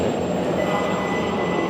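A metro train in the Tashkent underground in Uzbekistan, heard as a steady, loud rumble of wheels and carriage noise that runs without a break.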